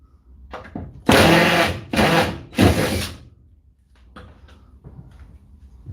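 A DeWalt power tool whirring as it screws on a tool mount: three loud, close bursts of motor noise, each under a second, followed by quieter handling clatter.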